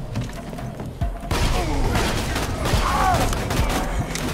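Pistol shots in a video game crack in rapid bursts over a dense layer of game noise, booms and mechanical effects, loud and close throughout.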